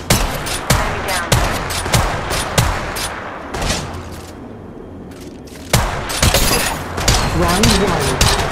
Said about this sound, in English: Contact. Opening fire.